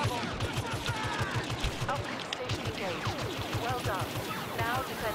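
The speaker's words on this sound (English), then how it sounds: "You're getting shot from behind?" Rapid, continuous blaster gunfire in a Star Wars Battlefront multiplayer beta match, a steady rhythmic stream of shots mixed with game effects while voices talk over it.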